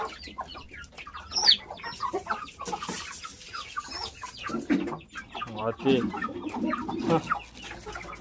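Guinea fowl and free-range country chickens cluck and squawk in a farmyard, with agitated bursts and overlapping calls close by while someone speaks briefly over them.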